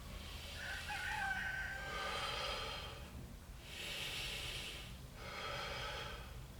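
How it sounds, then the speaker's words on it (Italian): A person breathes deeply and forcefully without a controlled abdominal belt, giving several long, loud, close-up breaths with rough, snorting air noise in a steady rhythm of inhales and exhales, with no talking. "se io respiro senza cintura controllata"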